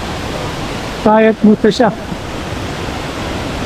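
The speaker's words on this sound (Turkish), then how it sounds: "Burada da şelaleler akıyor böyle." A waterfall pours with steady, loud broadband rushing, close and constant throughout. Someone briefly speaks over it.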